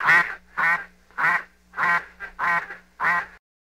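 A duck quacks seven times in a steady rhythm, each call loud, close and nasal, then silence follows.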